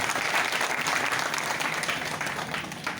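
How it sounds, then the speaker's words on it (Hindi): An audience at a Ram Katha religious gathering in Geeta Colony claps to welcome the spiritual leader, a continuous dense burst of applause filling the space, fairly loud and even throughout. "दोनों हाथ खड़े कर कर ताली बजाकर हमारे महाराज जी का स्वागत कीजिए"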